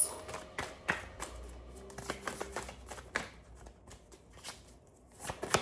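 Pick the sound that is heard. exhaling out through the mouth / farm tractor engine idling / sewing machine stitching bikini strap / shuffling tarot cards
shuffling tarot cards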